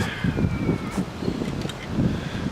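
Gusty wind buffeting the microphone in low rumbling bursts beside an antique 18-inch cedar dugout skiff, with a faint high whine in the background.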